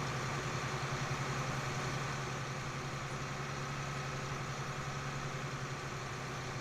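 A New Holland tractor engine in Farming Simulator 19 holds a steady, even idle: a loud, continuous low rumble with a faint rhythmic pulse and no change in pitch, heard alone.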